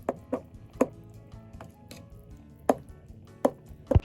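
A spoon knocks and squelches through moi moi batter with a little oil in a bowl, giving a series of sharp, irregular taps over a soft wet background.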